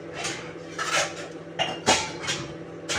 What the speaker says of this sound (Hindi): बर्तन भी धोना